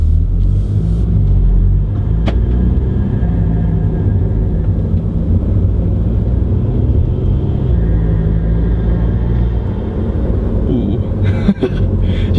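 Audi A3 8P fitted with a new intake, accelerating at light throttle from inside the cabin, a loud, steady low engine rumble throughout with a brief click near the end.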